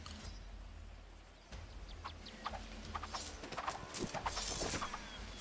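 Horse archer cavalry hooves in the strategy video game Circle Empires, a steady clip-clop of many hooves with whinnies and chicken clucks mixed in, moderately quiet game audio building slightly louder toward the end, no talk.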